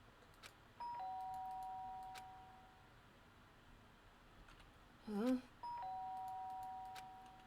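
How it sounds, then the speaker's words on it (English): Doorbell ringing in the video game Danganronpa: Trigger Happy Havoc, two clear electronic chimes a few seconds apart, with a short voiced exclamation between them over quiet background. "The sharp sound of the doorbell pierced my sleepy haze and pulled me back to the real world."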